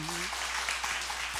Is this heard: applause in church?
yes